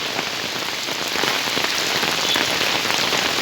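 Heavy rain in Sylhet drums loudly and steadily on surfaces nearby, a thick crackling downpour that swells a little toward the end, with no talking.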